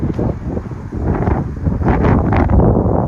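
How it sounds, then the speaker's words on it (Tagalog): Strong wind buffeting the microphone in loud, low gusts, roaring continuously outdoors near a bus stop in cold weather, with no voices. "sobrang ginaw, sobrang hangin"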